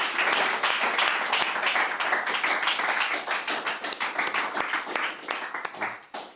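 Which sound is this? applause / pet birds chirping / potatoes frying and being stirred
applause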